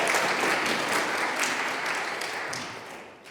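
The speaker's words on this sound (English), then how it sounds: "And also another round of applause for Bruce." Steady applause from a crowd, dense and sustained clapping that gradually fades toward the end.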